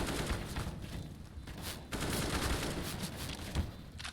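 Rapid gunfire bursts from a Counter-Strike: Global Offensive match, dense sustained shots with louder cracks near the two-second mark and again toward the end, continuous and close.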